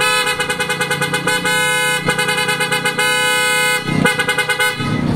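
PIAA Oto Style car horn tested at an auto accessories shop in Pagadian City, sounding loud, close, bright blasts in quick rhythmic pulses, held longer near the middle and end, with no talking.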